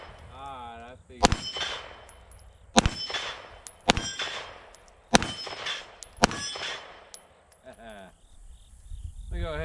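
Five sharp pistol shots from a SAR USA K12 Sport race pistol ring out at uneven intervals outdoors, each loud crack followed by a brief metallic ring, with a voice briefly heard between.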